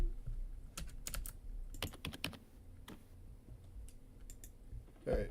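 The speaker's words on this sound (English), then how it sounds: "Nothing's popping up the screen when I'm typing." Rapid keystrokes on a computer keyboard during a Group A match, a close burst of crisp clicks in irregular clusters with short pauses, followed by a brief voice near the end.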